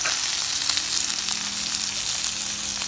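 Onion frying in hot oil with mustard seeds, cumin and asafoetida gives a steady, dense sizzle, loud and close, with no talking over it.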